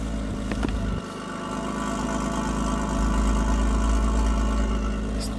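A BMW E34 straight-six petrol engine idles steadily nearby, a low continuous rumble with a slight rise in level partway through, and no voices.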